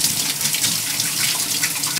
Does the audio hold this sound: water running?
yes